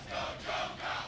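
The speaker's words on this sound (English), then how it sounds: "the chants are starting again" A crowd chants in rhythm at a fighting game tournament in Birmingham during a winners' bracket match, three swelling pulses of massed voices, loud and roomy, with no commentary over them.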